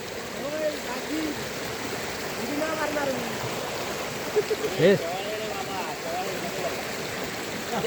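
A village stream swollen by rain flows with a steady, soft rushing hiss, while people talk and call out over the water.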